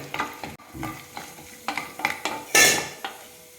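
Raisins, cashews and almonds frying in ghee in a pan, with crackly sizzling bursts mixed with spoon scrapes and metallic clinks against the pan, including one louder hissing flare near the end.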